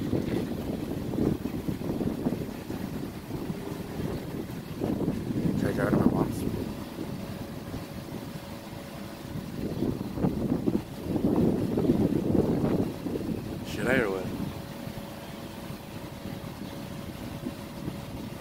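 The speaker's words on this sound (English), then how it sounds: "I'm sorry for the wind too. It's windy." Gusty wind buffets a microphone outdoors beside a vehicle, a steady low rumble that swells and eases in waves over about eighteen seconds, with voices talking through it.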